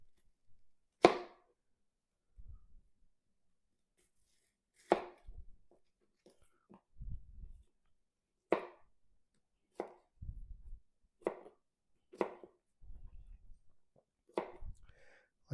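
A Dragon Creek chef knife chopping an onion on a board, about ten sharp separate chops spaced a second or two apart, each followed by soft scraping and handling, quiet and close.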